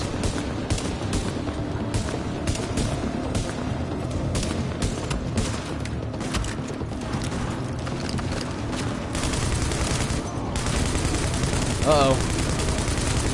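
Gunfire in the video game The Division, with dense bursts of shots and booms running continuously under intermittent talking.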